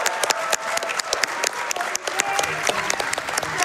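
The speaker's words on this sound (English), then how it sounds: "Let's all clap again for the PB." An audience at a speedrunning marathon event claps steadily and loudly, a dense patter of many hands with a few voices mixed in.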